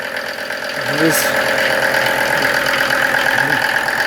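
A Mercedes OM602 2.5-litre diesel engine driving a motor pump for field irrigation runs loud and close, a steady knocking rumble with slight imbalance, while a voice talks over it.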